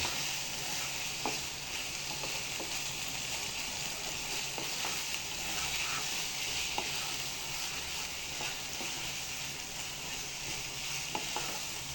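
Pangas fish bhorta being cooked down in oil until crisp, with an even, continuous sizzle and soft bubbling throughout and faint stirring ticks now and then.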